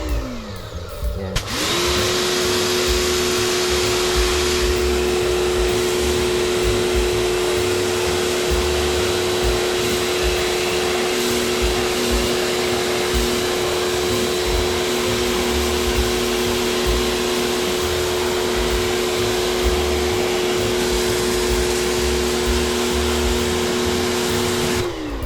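A Predator 140 bar pressure washer used as a car wash machine starts up and runs with a loud, steady motor whine and a constant rushing spray, close and unbroken for the whole stretch, with no voices.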